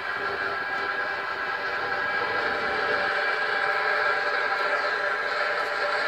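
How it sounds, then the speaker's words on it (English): A TOG gasifier blower runs the 8750 with a steady, broadband whoosh and drone, continuous and moderately close, with no talking. "it's a nice quiet blower, no noise."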